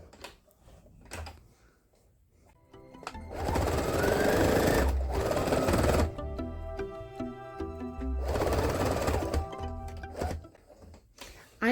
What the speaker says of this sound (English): I am just sewing around using 1/8 of an inch seam allowance.